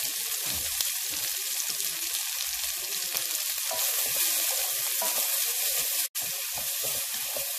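Bell pepper, celery and carrot sizzle steadily in a hot pan for a Cantonese-style cauliflower rice with shrimp, a continuous close crackle with a brief pause near the end and no talking.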